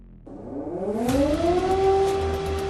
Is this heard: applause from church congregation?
no